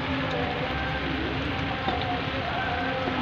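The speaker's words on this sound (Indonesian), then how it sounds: "akhirnya tertimpa hujan. Hujan sudah turun." Steady rain falls on ploughed rice fields near Bumiayu on a stormy afternoon, a dense, unbroken close hiss that holds at an even loudness throughout with no clear talk.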